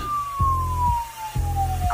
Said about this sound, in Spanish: aquellas sirenas se comenzaron a oír